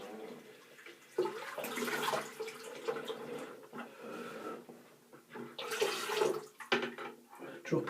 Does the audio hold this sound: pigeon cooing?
no